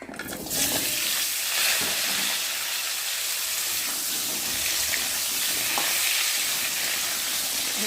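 Potatoes fry in hot oil in a pan after the tempering spices, giving a steady, dense sizzle that starts suddenly and holds loud and close throughout, with faint scraping of stirring.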